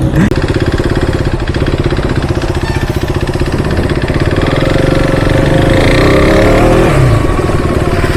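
A superbike engine at a motorcycle meetup runs loud and close, its rapid firing pulses holding steady before the revs climb and then drop, with voices underneath.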